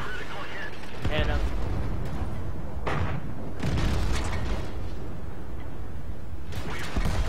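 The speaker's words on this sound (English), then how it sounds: "Fucking artillery fire." Tier 5 artillery shells land in a World of Tanks battle, several heavy booming impacts and crashes hitting at irregular intervals over a continuous rumbling game backdrop.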